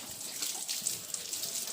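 Water trickles and splashes steadily for a moment, a soft continuous gush of water running into a sow's drinker at a piggery, fairly quiet.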